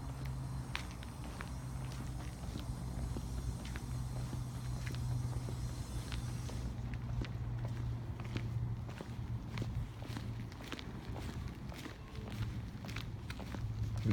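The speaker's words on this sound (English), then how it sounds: "I can like hear my footsteps just brushing against the salt and then echoing" Footsteps brush against salt on the ground of a quiet property, a regular series of soft crunching steps that echo faintly, continuing throughout at moderate loudness.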